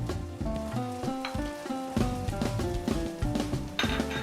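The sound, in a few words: turmeric and chili powder sizzling in hot oil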